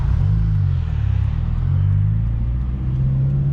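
A Stage 2 Subaru WRX accelerates hard in a second-gear roll, its engine droning loud and steady with a rising low rumble throughout, close and continuous with no talking.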